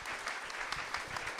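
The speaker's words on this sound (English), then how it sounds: "We should give an applause to Chris Kraus." Audience clapping after a talk with Chris Kraus, a brief, fairly quiet burst of applause heard alone without speech.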